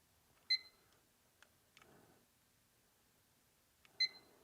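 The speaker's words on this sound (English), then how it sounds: "I'm actually going to put a timer on the first one" Electronic kitchen-style timer being set, giving a couple of short, bright beeps about three and a half seconds apart, with faint handling clicks and rustle between them in a quiet room.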